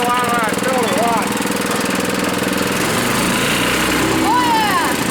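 A newly fitted engine on a concrete mixer, running rough with too much oil in the air filter and blowing oil, revs hard and steadily close up. It is loud and continuous, with a voice chattering over it.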